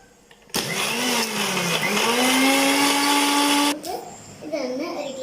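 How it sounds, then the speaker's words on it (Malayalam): A mixer grinder blends chocolate milkshake with ice cubes in one loud, close whirring burst of about three seconds that rises in pitch and then cuts off, followed by brief quieter sounds. "പിന്നെ വേഗം അടിച്ചെടുക്കാം."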